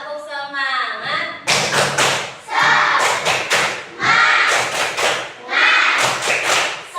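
A group doing a tepuk semangat spirit clap, loud close rhythmic bursts of clapping and thumping in repeated patterned phrases, with chanting voices mixed in.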